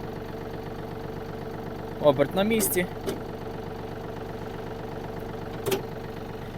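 A Yanmar AF-250 Japanese mini tractor engine idles with a steady low mechanical drone throughout, while someone speaks briefly over it and a couple of short louder knocks break through.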